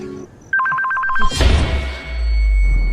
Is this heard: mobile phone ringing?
yes